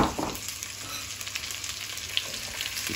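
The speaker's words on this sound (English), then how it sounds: "we just want to get this fried on a kind of medium to high heat" Diced swede, celery and carrot fry in a pan over medium-high heat for venison stew, giving a continuous close crackling sizzle with a few small pops.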